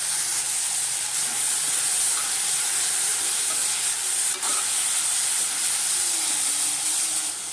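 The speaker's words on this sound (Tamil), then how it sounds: "இதோட நம்ம வதக்கி வச்ச பிரண்டையை சேர்த்துக்கலாம். சேர்த்து நல்லா வதக்கிக்கோங்க." Pirandai sautéing with tamarind in a pan makes a continuous, fairly loud hiss, with a few faint clicks and light scrapes over it. No one speaks.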